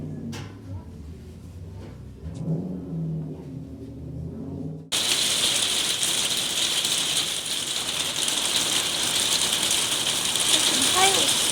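Hail from a hailstorm bouncing off the ground, a dense, steady hiss of rapid pattering impacts. It starts abruptly after a few seconds of quieter talk and background noise, then stays loud and even.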